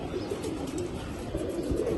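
Silver-line pigeons, a pair in full moult, coo with low throaty burbles that run steadily throughout, mid-level and close by, with a faint chirp mixed in and no voices.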